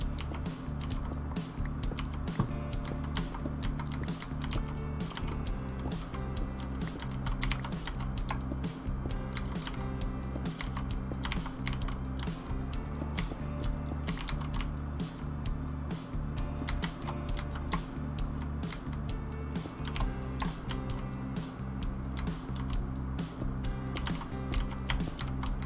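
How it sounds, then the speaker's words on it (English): A loud computer keyboard clatters under rapid, continuous typing, with dense, uneven clicks and key taps running without pause and no voices on top. "your keyboard is loud, by the way"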